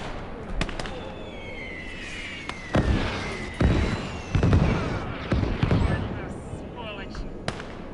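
Artillery and explosion bursts from the Eastern Front battle game Call to Arms: Gates of Hell, several sharp booms spaced irregularly through dense battle ambience, with a voice talking over parts of it.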